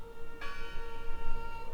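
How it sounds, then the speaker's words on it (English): Bell ringing in the video game Draugen, a single loud, close strike that rings on with a long sustained tone over a murmuring background. "Listen. The bell."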